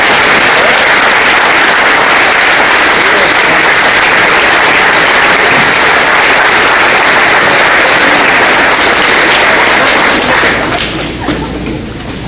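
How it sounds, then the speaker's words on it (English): A room full of people gives a long round of applause for a guest standing at a police department gathering, loud, dense clapping that holds steady for about ten seconds before starting to fade. "Give him a round of applause."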